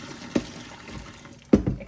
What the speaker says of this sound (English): So then you're just going to strain off all the water